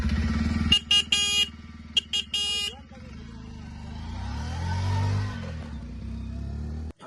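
A motorcycle engine idles and revs with a low rumbling throb, rising in pitch mid-way, interrupted early by several sharp horn toots, with other noise around it.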